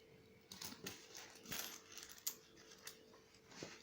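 Aluminium coins from an Indian currency collection are handled close by, giving faint, scattered metallic clinks and taps against a quiet background.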